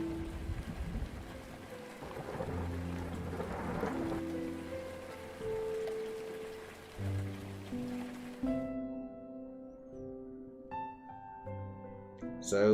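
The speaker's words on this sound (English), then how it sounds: "I love the sound of thunder and the rain." Steady rain with low rumbling in the Rainswept video game, inside a cozy cafe. Soft musical tones sit underneath before the noise cuts off near the end.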